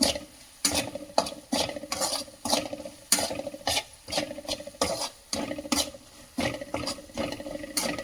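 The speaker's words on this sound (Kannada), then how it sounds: "ಇದು ಚೆನ್ನಾಗಿ ಮಿಶ್ರಣ ಮಾಡಬೇಕು ಎಲ್ಲ ಪೌಡರನ್ನು" A spoon stirs garam masala powder into palak paneer in a pan, giving repeated rasping scrapes in an uneven rhythm, close and clear, with no talking.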